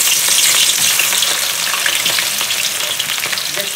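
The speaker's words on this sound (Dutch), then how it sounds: "Nu ga ik mijn uien en knoflook bakken." Onions and garlic fry in a pan for Surinamese nasi, a loud, close, continuous sizzle with crackling spatter and a few stirring scrapes, and no voices.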